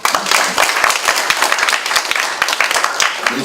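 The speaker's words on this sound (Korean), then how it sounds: "자, 우리 인연을 위해서 박수 한번 보내십시오." Lecture audience applauding in a hall, dense steady clapping from many hands filling the whole moment, close and fairly loud with no talk over it.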